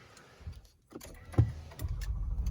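A 2020 Lexus RX 350 engine starting: a few light clicks and key jingles, then a short crank catches into a low, faint, steady idle rumble close by.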